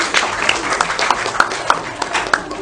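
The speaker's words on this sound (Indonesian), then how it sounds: "Oke, tepuk tangan buat Anda semuanya." An audience at an Islamic market event breaks into loud, close applause, dense clapping that carries steadily for a few seconds with sharp individual claps standing out.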